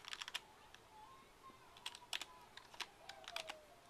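Quick bursts of computer keyboard typing as a search is entered, light clattering keystrokes in uneven runs, fairly quiet and close, with no voices.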